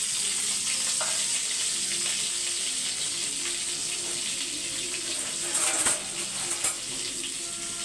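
Onions sautéing in hot oil in a pan, a steady sizzle with light scraping of stirring throughout, fairly close and with no talking.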